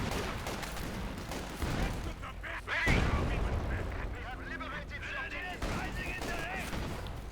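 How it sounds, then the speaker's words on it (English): German Grenadiers in the strategy game Company of Heroes 2 fire a light machine gun and Gewehr rifles in a busy battle, with rattling bursts, scattered shots and a heavy blast, while a commentator talks over it. "The Grenadiers firing away their bravely with the lightest machine and gewehr."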